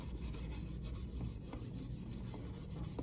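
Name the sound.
rubbing metal polish on truck trim molding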